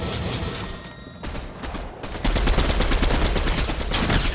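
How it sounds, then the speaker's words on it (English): Gunfire in a video game, scattered single shots followed by a dense, rapid automatic burst, loud and close with no talking. "Shots east and northeast."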